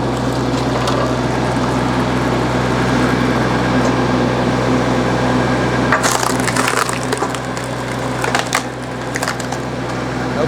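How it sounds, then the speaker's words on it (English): American CLS 3-point tractor log splitter driving wood through a 4-way wedge: a loud steady hydraulic pump drone, then sharp cracking and splintering as the log splits apart near the end. "let's try the 4-way and see if the smaller pump's able to run through this"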